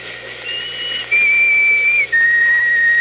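A shrill police-style whistle in an old radio drama sounds in two long sustained blasts, the first slightly higher, with a short break between them over faint background hiss; no talking.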